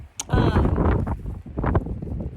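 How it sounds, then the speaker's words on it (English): Strong gusts of wind buffet the microphone on the Appalachian Trail, roaring and rumbling in uneven bursts close to the mic, with a brief crackle near the start. "Like I said, it's incredibly windy right now."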